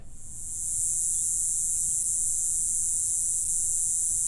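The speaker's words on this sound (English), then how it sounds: "It's a third insect that looks similar, called a katydid." A katydid calls in a steady, dense high-pitched buzz that drones continuously, loud and unbroken, with no pauses.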